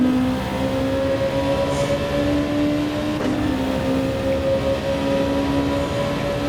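Gr.2 race car in Gran Turismo 7 at Fuji, its engine holding a steady droning whine while coasting off throttle and brakes, loud and continuous with no speech.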